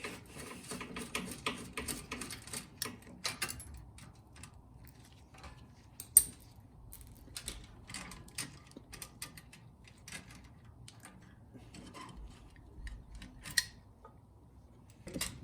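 Nuts being loosened and removed from a Cub Cadet snowblower engine during repair: faint, intermittent metallic clicks and ratcheting scrapes, with scattered taps and handling noises and one sharper knock near the middle.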